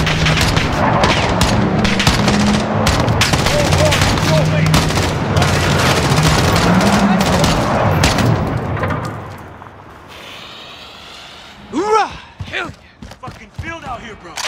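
Sustained, loud, dense gunfire during an American Embassy terrorist attack in a video game, with rapid shots and booms for several seconds, then fading as voices speak over quieter surroundings.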